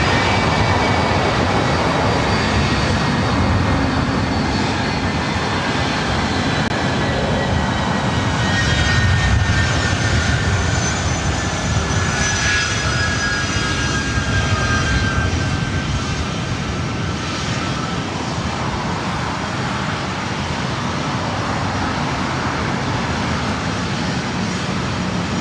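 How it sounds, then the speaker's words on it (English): A Delta Boeing 757-200, 27 years old and bound for Boston, takes off at LAX with a loud, steady jet engine roar that holds strong throughout and swells slightly midway, alone without talk. "It's a 27-year-old 757-200, originally delivered in January of 1997"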